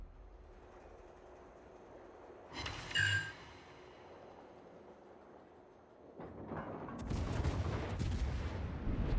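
Naval gunfire in the video game World of Warships during a clan battle: a distant salvo crack, then a loud, sustained roar of heavy guns and rumbling effects.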